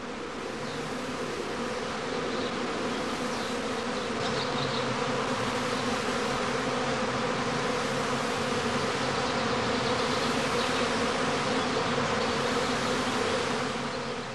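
A bee swarm hums around a straw skep hive, a loud, dense, unbroken drone of many wings that holds steady throughout.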